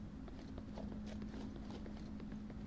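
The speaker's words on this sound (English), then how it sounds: "You may hear there's new footstep sounds." Footsteps echo through tunnels in the VR shooter Onward, a quick run of small, faint steps tapping steadily and evenly beneath a low background hum.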